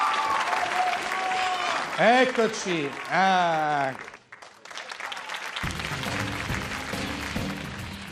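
An Italian television show's studio audience applauds while a host talks over it, a brief near-silent break follows, then clapping resumes with music rising underneath.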